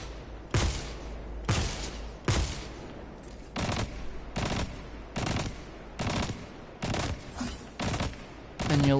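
Gunfire in a Destiny 2 Forsaken raid comes as about nine loud, close bursts of rapid fire, each roughly half a second to a second long, separated by short pauses.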